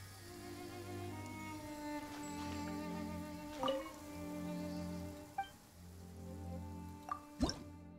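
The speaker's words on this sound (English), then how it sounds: "Oh no, it's raining." Light rain falling, heard as scattered drips and drops against a steady low hum, with a few sharper taps near the end.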